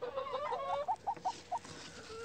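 Barred Rock chickens, a rooster and hens, make a string of short, rising clucks and a few drawn-out calls, fairly close and alone without talk.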